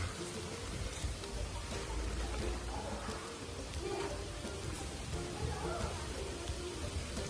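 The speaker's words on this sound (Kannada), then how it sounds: "ಮಳೆ ಬಂದ್ಬಿಡ್ತು, ಹೋದ್ಸಲನು ಹಿಂಗೆ ಮಳೆ ಬಂದ್ಬಿಟ್ಟಿತ್ತು." Steady rain pours outdoors at a birthday gathering, a dense, even hiss of drops on surfaces running throughout, with faint voices now and then beneath it.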